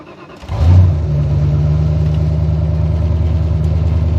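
1970 Ford Mustang Fastback engine catching and settling into a loud, steady, rumbling run, close up, after a brief rising surge at the start.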